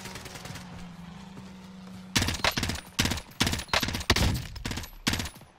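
Rapid bursts of M16 rifle fire in a first-person shooter video game, loud and close, a sharp series of shots after a couple of seconds of low background hum.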